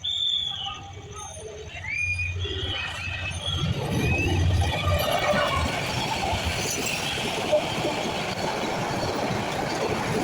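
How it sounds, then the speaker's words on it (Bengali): Subarna Express train pulling into Comilla railway station in the evening, a loud, steady rumble of rolling cars with rail clatter and some squeal building and holding close by, with station voices faintly underneath. "ঢাকা থেকে ছেড়ে আসা সুবর্ণা এক্সপ্রেস ট্রেনটি কুমিল্লা এসে পৌঁছায় 7টা 20-এ।"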